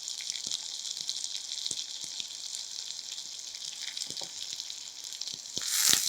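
Orange peel and curry leaves fry in hot oil for a kuzhambu, giving a steady, close sizzle with faint spoon taps throughout and a louder burst of crackling near the end.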